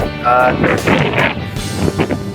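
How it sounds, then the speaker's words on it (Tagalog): Strong wind gusting over open inland sea water during a fishing tournament, a loud broadband roar buffeting the microphone with rumbling low gusts, partly over talking voices. "Malakas na yung hangin."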